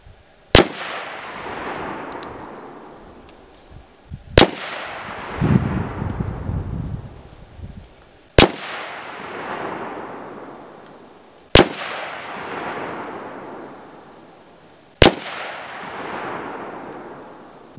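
IWI Tavor 7 .308 bullpup rifle fired at steel targets from 100 to 300 yards: five sharp, loud shots spaced about three to four seconds apart, each followed by a long rolling echo fading across open ground.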